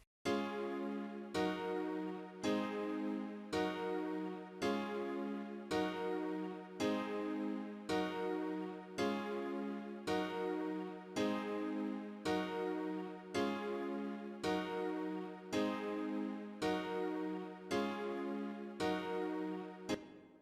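Synth chord from the Purity plugin in FL Studio, a looping C-minor chord for a Seben beat, struck again roughly every second in a steady repeating pattern, bright and sustained with rich harmonics, with no other sounds.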